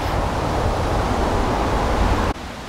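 Stream water rushing through a wooded ravine in a Yokohama park: a steady, loud broadband roar that drops off abruptly near the end, with no voices.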